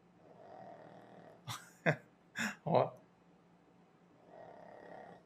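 Frederico snores in short, raspy bursts, a few rough breaths in a row, close by and fairly quiet over a low background hum.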